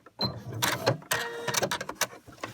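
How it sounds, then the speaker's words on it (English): A sewing machine stitches elastic onto fabric for a scrubs hat, running in short close bursts of rapid mechanical whirring with brief pauses as the stitching goes forward, back and forward again. "a few stitches forward, a few stitches backwards to the end of the elastic, and then forwards again and finish"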